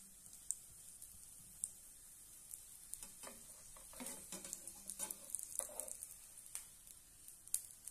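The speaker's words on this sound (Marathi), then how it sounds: "छानपैकी दोन्ही साइडने आपण भाजून घेऊया। थोडंसं तूप सोडूया।" Milk bread toasts in ghee in a pan, a faint, quiet sizzle with scattered clicks and scraping stirs of a utensil.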